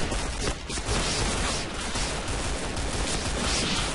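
Dense, continuous gunfire in the video game Point Blank crackles and booms in a loud, saturated barrage with no pauses.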